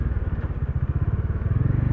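A Bajaj Dominar 400 motorcycle engine runs nearby with a fast, even pulsing idle thump, heard alone and fairly loud.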